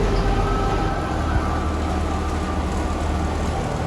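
A theme park train moves past a construction area, giving a steady, loud rolling rumble with a faint metallic whine throughout and no voices.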